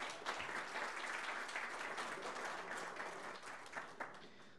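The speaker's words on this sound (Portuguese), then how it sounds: "Aplausos" Audience at an energy and solid waste seminar claps steadily, a broad, even rush of many hands with a few sharper individual claps, heard faintly from a distance.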